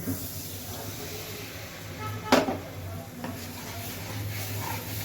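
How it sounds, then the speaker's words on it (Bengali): White sauce with milk is stirred in a pan, a soft continuous scraping and hiss running close by, with one louder scrape of the utensil near the middle. "দেখুন, তো এইভাবে একে নাড়াতে থাকবেন।"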